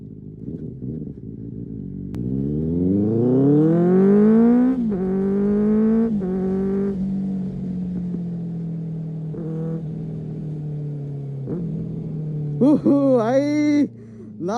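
A 600 cc motorbike on a short ride revs up with a rising, throaty engine whine, then drops into a steady cruising drone, ending in a few quick throttle blips. A voice talks over the engine at points.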